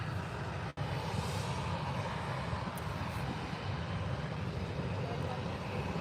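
A Ryanair airliner departing Birmingham Airport produces a steady, broad jet roar that fills the whole stretch, loud and continuous, with a brief dropout near the start.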